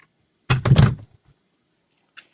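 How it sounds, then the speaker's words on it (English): The front door of a skoolie bus swings shut with a solid thunk and brief rattle, followed by a couple of small knocks and a faint latch click a moment later. "now let's just shut the door."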